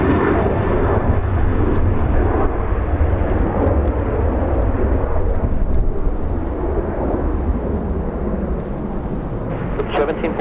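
A Boeing 777 airliner at LAX, its jet engines making a loud, steady broadband roar with a heavy low rumble that stays constant for the whole stretch, close and dominant with no clear breaks.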